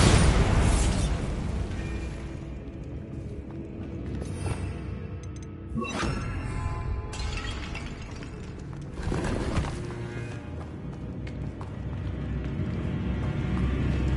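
Bombarda spell blasts in Hogwarts Legacy, a sharp explosive burst at the start followed by two more booming impacts with crackling debris, then rumbling game ambience between them.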